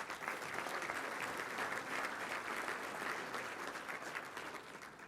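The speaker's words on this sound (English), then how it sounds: "let's give a round of applause to all of our sponsors" An audience claps for sponsors at an event held at an embassy, a dense, steady round of applause that fills the whole stretch at moderate loudness and fades slightly at the end.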